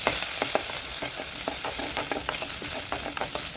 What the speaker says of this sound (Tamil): எண்ணெய் நல்லா சூடானதும் கடுகு, உளுந்து நல்லா பொரிஞ்சு வர சவுண்ட் வந்துடும்